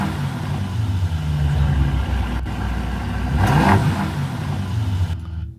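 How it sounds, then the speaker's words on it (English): A car engine recording played back loudly through a speaker, a steady rumbling drone that swells into a throaty rev before cutting off abruptly. "Y'all want to hear the rev of the engine?"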